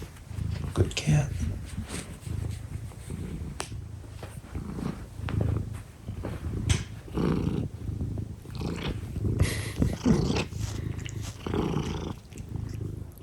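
A pet cat purrs while washing itself, a low, rumbling purr pulsing steadily up close, with occasional soft licking and a person's voice now and then.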